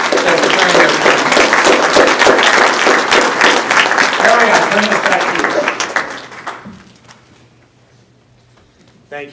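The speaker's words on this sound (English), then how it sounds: "How about a round of applause?" A crowd at a county address applauds its commissioners in a loud, close round of dense clapping that lasts about six seconds and then quickly dies away into near silence.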